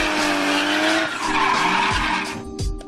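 A car drifting with loud, sustained tire squeal and skidding over a revving engine, continuous and close throughout.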